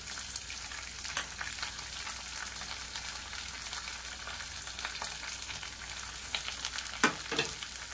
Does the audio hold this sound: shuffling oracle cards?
no